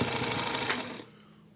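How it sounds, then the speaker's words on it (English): A home sewing machine stitches fabric strips together with a fast buzzing whir for about a second, then stops abruptly, leaving quiet room tone. "So I'm just sewing these strips together."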